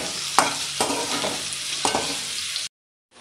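Paneer frying in its own oil in a pan, Hakka style, sizzles loudly and steadily up close while a utensil stirs it, leaving a few distinct scraping knocks before the sound abruptly stops.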